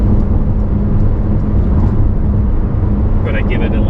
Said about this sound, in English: I'm going to give it a little bit a downshift and an upshift.